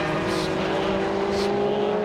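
A Lotus Exige race car with a supercharged Honda engine pulls away on track at Donington Park during an Elise Trophy race, a loud, sustained engine drone with rising tone and tire noise.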